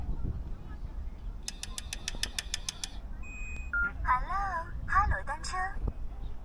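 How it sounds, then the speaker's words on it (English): Shared bike in Shanghai unlocking: a rapid string of evenly spaced electronic beeps, a short tone, then a synthesized voice announcement from the bike over faint street noise. "The bike is going to speak to me when I press unlock."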